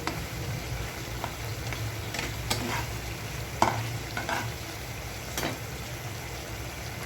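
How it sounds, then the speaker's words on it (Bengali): Hilsa fish braising in a pan with spices, a low constant sizzle broken by a few stirring scrapes and knocks, close by with no voices. "দেখতে পাচ্ছেন মাছটা কষানো হচ্ছে"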